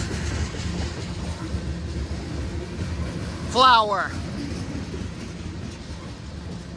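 A freight train rolls past near Game Farm Road in New Scotland, its railcars giving a steady rumble and clatter throughout. Someone speaks briefly over it, and a short squealing whine cuts through partway.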